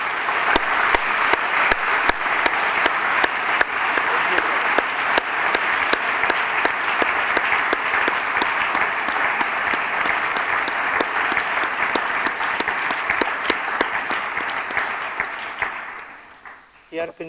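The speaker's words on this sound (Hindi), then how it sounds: "हम डॉक्टर साहब का शुक्रिया अदा करेंगे तालियां बजाकर।" Sustained applause from a large crowd, dense and even for a long stretch before fading out near the end.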